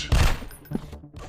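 Gunfire in a Counter Terrorist first-person shooter game: a loud opening shot followed by a smaller crack and a faint trailing report, close and punchy, with no voices.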